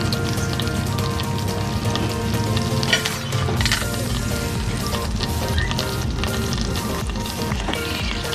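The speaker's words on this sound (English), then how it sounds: "now we're going to cook our experimental pancake number 1" Pancake batter frying in a hot pan, a loud dense sizzle with crackling spits and pops that holds steady from start to finish, nobody speaking.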